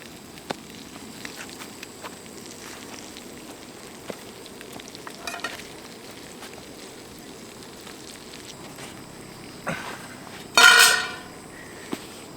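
A Monte Cristo sandwich fries in a pan on a Trangia camping stove outdoors, giving a soft, steady sizzle at low level that swells into a brief louder crackling burst near the end.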